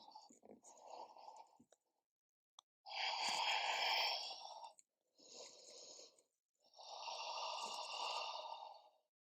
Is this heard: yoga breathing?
yes